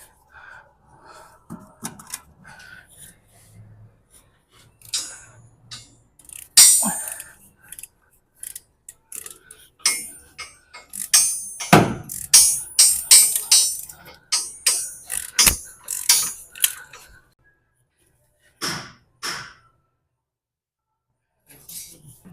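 A ratchet wrench clicks in quick, uneven bursts of sharp metallic ticks, close and fairly loud, with pauses and scattered clanks between runs.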